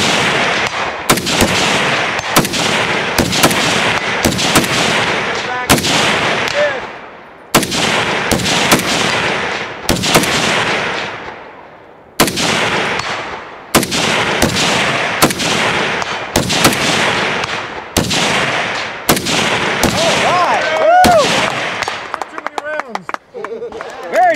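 Gunfire at a shooting match, loud close shots in rapid bursts with short gaps, some sustained volleys like fast strings, dominating the scene with little else audible.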